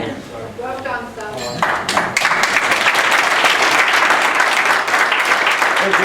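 Guests at a wedding reception break into loud, sustained applause after a voice speaks briefly, and the dense clapping continues to the end.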